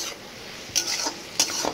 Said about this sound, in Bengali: উস্তা ভাজার পর্বটা চলতেছে, ভাজা হয়েছে না